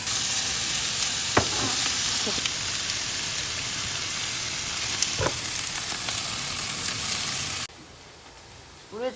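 Meat, including beef tongue, sizzles and fries steadily on a grill at home in Fukuoka, a continuous crackling hiss with a few sharp pops, under a faint high tone, cutting off abruptly near the end.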